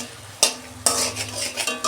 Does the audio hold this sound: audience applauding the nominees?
no